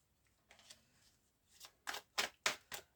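A deck of Green Magic tarot cards is shuffled by hand. Soft riffles come first, then several louder, crisp bursts of card flutter close by, with no talking.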